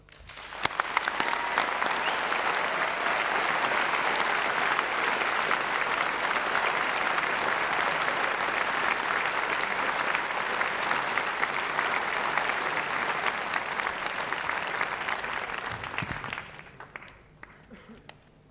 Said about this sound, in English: Will you now join with me in giving a loud round of applause to those about to graduate?